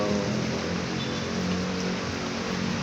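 Steady rain falls with a continuous, even hiss and no pauses or voices.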